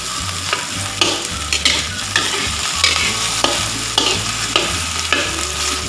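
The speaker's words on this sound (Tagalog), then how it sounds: "Haluin lang para hindi siya masunog." Okra for an omelet sizzles steadily in a pan while a utensil scrapes and stirs it in repeated strokes, close and loud, with no talk.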